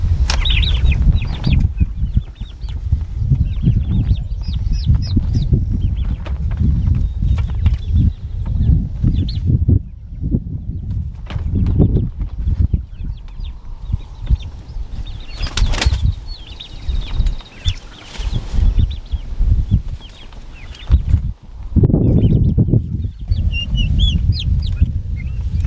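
Turkeys being moved out to pasture cluck and scuffle, with bursts of loud, close wing flapping breaking through the low, busy clucking of the flock.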